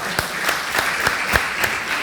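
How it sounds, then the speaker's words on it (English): Audience applause at a tech talk, a light scattering of claps with a handful of distinct sharp hits standing out over a soft crowd background for a couple of seconds. "round of applause for that"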